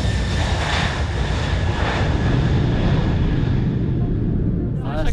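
Boeing 747 airliner accelerating in flight, heard from inside as a steady, loud broadband engine roar with a constant hum that holds evenly throughout, with a brief clatter right at the end.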